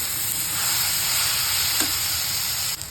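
Chopped eggplant being stirred into a hot frying pan mixture for bharit, giving a steady, close sizzle and hiss with a faint scrape of the spoon partway through and a soft clatter near the end.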